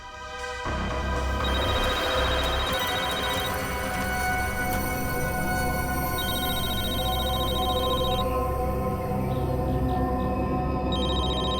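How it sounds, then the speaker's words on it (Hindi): A phone rings during a scene in the CID TV crime drama, its bright electronic ring repeating in regular bursts over loud, sustained background music. "सर, फोन रिंग हो रहा है।"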